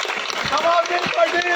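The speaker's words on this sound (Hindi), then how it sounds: "एक बार जोरदार तालियां बजाओ।" Crowd applause at an outdoor political rally in Shiv Sharda Colony, a dense wash of many hands clapping for a candidate, steady and fairly loud, with voices talking and cheering mixed in throughout.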